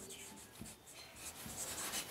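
A pen scratches softly on paper in short, uneven strokes, close and quiet, while a math solution is written out.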